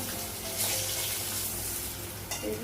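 Fish sizzles in a hot pan in a home kitchen, a steady close frying hiss with occasional stirring scrapes and a splash of water near the end.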